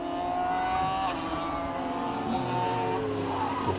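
Race cars at Donington Park brake hard into a corner, a continuous loud engine drone with downshifting revs and falling pitch as the car slows, an engine note steady from start to finish.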